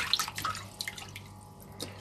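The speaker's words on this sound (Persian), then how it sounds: "مقداری آب روش باز می‌کنیم" Tap water running into a bowl of chicken gizzards, a soft splashing trickle with a few brief drips, close and fairly quiet, with no talking.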